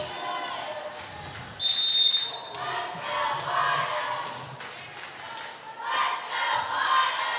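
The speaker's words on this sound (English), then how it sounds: "Roughneck crowd trying to encourage on their Lady Necks" Spectators at a high school volleyball playoff match shout and cheer to urge on their girls' team, a sharp referee whistle cutting through near the start, the crowd noise rising and falling in waves.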